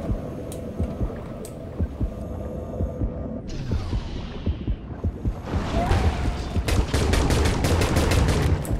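Rapid bursts of twin guns firing in the underwater shark-hunting game Depth, running steadily through the second half over a low, throbbing hum.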